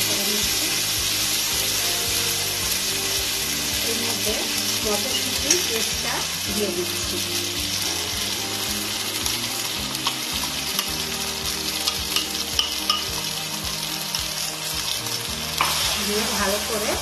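Ginger paste frying in mustard oil in a wok, a loud, dense crackling sizzle that holds steady throughout with faint stirring underneath, close up and without talk.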